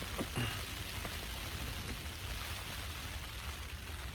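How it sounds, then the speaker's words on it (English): Steady light rain patters continuously on a taut tent fabric, a Jack Wolfskin Yellowstone 4 four-season tent in winter, a soft even hiss close by with no voices. "it's kind of a light rain right now"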